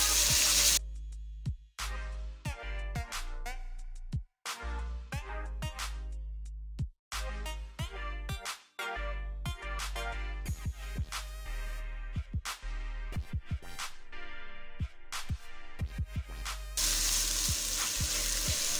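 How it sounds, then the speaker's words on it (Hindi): Chopped onions frying in hot oil with garlic for a dhaba-style egg curry, a loud, steady close-up sizzle that keeps going throughout, broken by occasional scraping stirs and brief dips. "प्याज को भूनते जाएंगे जब तक ये इसका गोल्डन कलर नहीं आ जाएगा"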